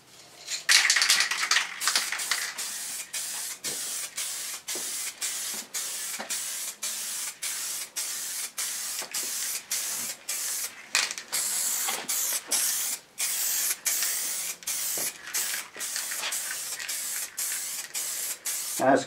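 Aerosol vinyl wrap coating sprayed onto a metal bash plate in a home garage, a long series of hissing bursts separated by short pauses, close and fairly quiet.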